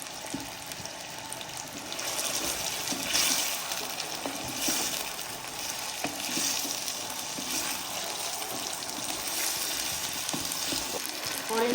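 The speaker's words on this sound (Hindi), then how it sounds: "अब हम इसमें आलू ऐड कर देंगे और उनको भी अच्छे से फ्राई करेंगे" Potatoes fry in hot oil with cumin seeds and kalonji, giving a steady, moderately loud sizzle and crackle that continues evenly throughout.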